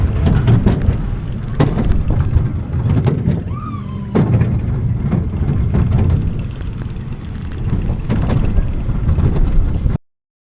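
Vertical-drop roller coaster at the Paultons Park station on a hot day, a loud continuous rushing roar with rattling surges and a brief whine partway through, heard close up and alone, then cutting off abruptly.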